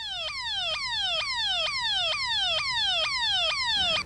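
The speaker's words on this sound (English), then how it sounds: "The alarms sound like this." A chlorine leak detection alarm at a water treatment plant wails in repeated rapid downward electronic sweeps, loud and steady with a regular pulsing rhythm, sounding alone for about four seconds before cutting off.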